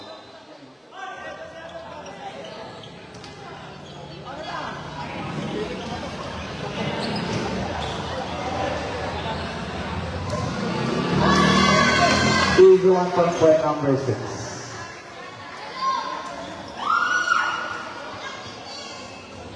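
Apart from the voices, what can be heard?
crowd cheering at a basketball game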